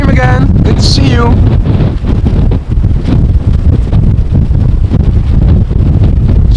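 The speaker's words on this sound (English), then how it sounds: "It is extremely, well, it is quite windy." Strong crosswind buffets the microphone beside runway 18R at Amsterdam Schiphol Airport, a loud, steady roaring rumble that persists throughout, with a brief voice near the start.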